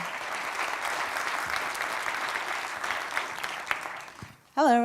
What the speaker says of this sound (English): ladies and gentlemen, a round of applause for Keisha Thompson